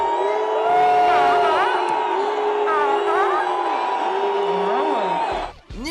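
A large concert crowd bellows and boos a French rapper, long sustained drawn-out jeers and shouts from many voices, loud and close, rising and falling in waves before cutting off abruptly.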